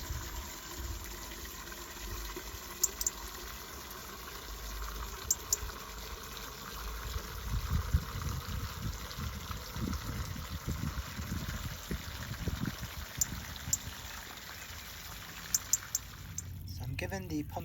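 Water gushes and splashes steadily onto pumpkin and squash plants mulched with straw on an allotment, a continuous close pour of irregular spatters with faint background ambience.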